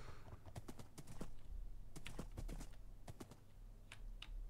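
Horse hooves clip-clopping in Minecraft, a run of sharp, close, irregular taps in quick bursts with short pauses between.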